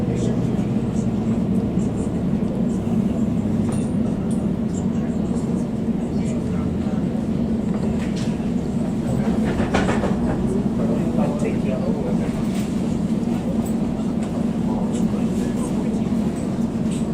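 A London Underground train rumbles steadily at a platform bound for Terminal 5, a loud continuous low roar with brake and wheel noise, with a voice or announcement faintly mixed in.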